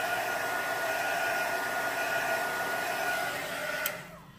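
Hair dryer blowing steadily over a bubble-wrap-textured paint craft project, a constant loud whirring hum that holds for about four seconds before abruptly cutting off.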